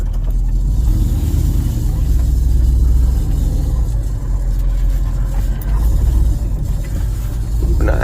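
A U-Haul truck drives along a road, its engine a steady, loud low rumble with road noise throughout and no talking.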